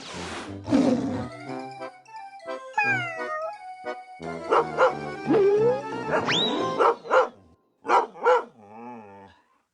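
A cartoon dog barks and growls in a series of separate bursts with pauses between them, loud and close. Some calls stretch into roaring, pitch-sliding tones, and there is no talking.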